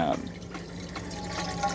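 Water runs briefly from an RV kitchen faucet into a pot, making a steady close splashing trickle that lasts under two seconds.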